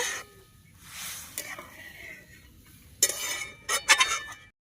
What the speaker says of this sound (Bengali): দুধটা ভালোভাবে জাল দিয়ে নিতে হবে উষ্ণ দুধ গরম এবার সুন্দরভাবে নাড়িয়ে নেব